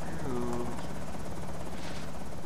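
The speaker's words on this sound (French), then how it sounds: "Ça veut pas dire que l'hélicoptère va rameuter les zombies." A helicopter in Project Zomboid, set in a forest, drones with a steady rotor thrum and buzz, continuous and fairly loud as it passes overhead.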